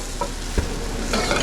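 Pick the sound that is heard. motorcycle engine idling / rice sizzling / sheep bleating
rice sizzling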